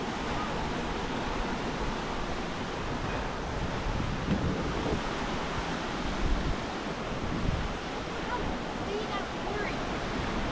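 Rawson Falls in New South Wales pours in a constant, dense roar of falling water close by, broadband and unbroken, with wind buffeting the microphone.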